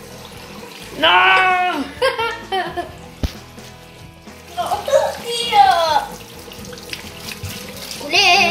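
Tap water runs into a sink while a reborn doll is bathed, a steady wash close by that comes and goes, with a child's and an adult's voices talking and laughing over it.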